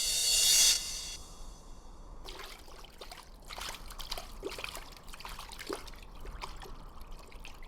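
A spring welling up from the ground in a desert story, its water trickling and dribbling steadily at a low level after a short bright burst of sound at the start.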